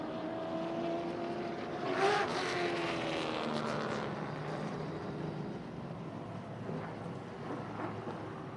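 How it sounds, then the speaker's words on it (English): Late model race cars running a heat race at Slinger Speedway, their engines blending into a steady, fairly distant roar with a brief swell as cars pass, heard without any talk. "First of 2 heat races for the Uptown Motor Cars late models."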